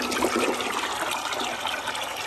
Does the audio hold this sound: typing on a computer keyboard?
no